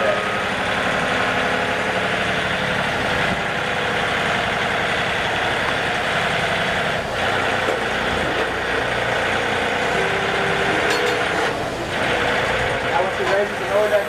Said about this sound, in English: Raises the mower deck up.